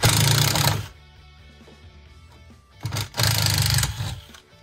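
A power driver backs screws out of an RV cabinet, whirring loudly in two close bursts of about a second each, with a quieter pause between them.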